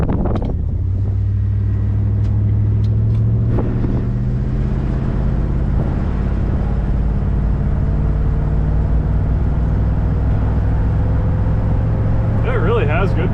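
A 1967 Pontiac Grand Prix convertible cruises with a loud, steady engine rumble and heavy wind buffeting across the microphone, a constant in-car drone with faint voices under it.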